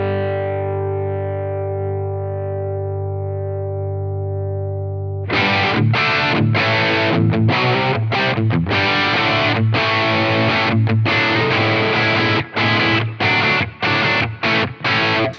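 A clean electric guitar chord through the Blackstar St. James amp plugin rings and decays, then heavily distorted, chugging riffs kick in with pre-effects switched on, loud and choppy with sharp rhythmic stops.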